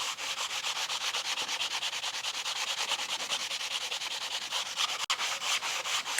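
A sanding block scrubs steadily back and forth, rubbing corrosion off a metal part from a Ford Essex V6 engine. The hissing strokes are close and continuous and fall in a quick even rhythm, with no talk.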